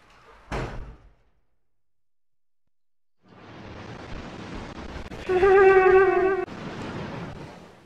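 Door opening in the Resident Evil 0 video game: a sharp single thud, then a pause, then a long creaking, grinding swing with a harsh metallic squeal in the middle, fading into a low rumble.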